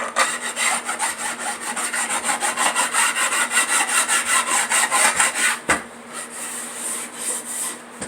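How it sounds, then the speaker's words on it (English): A wooden board is filed by hand in fast, even rasping strokes up close. After a short pause the strokes return, slightly softer. "We're going to do a quick filing."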